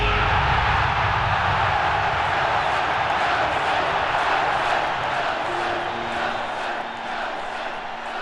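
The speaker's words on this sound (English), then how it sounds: "these white South African people who were chanting their president's name" Stadium crowd of white South Africans chanting Nelson Mandela's name, a vast steady roar of massed voices that fills the space and eases slightly near the end.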